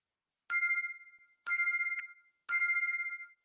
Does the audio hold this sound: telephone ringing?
yes